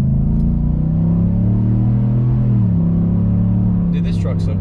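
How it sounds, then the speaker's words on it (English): A Chevrolet Silverado with a modified exhaust revs from inside the cab with the windows up, giving a deep loud droning rumble that rises and falls once, with a voice briefly at the end. "that sounds even better with the windows up"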